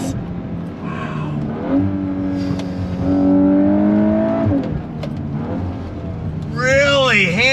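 A 2022 VW Golf R accelerates hard in first gear, its engine note rising steadily in a loud, sustained sweep, with a sharper whine climbing near the end.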